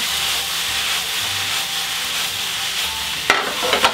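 Mushrooms sautéing with sage in a pan, a steady broadband sizzle with rubbing, scraping strokes of a utensil turning them over, ending in a few sharper knocks against the pan.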